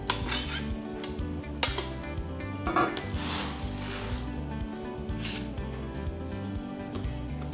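Metal knife scraping minced parsley gremolata into a bowl, giving a few close clinks and scrapes against a kitchen background with a low hum.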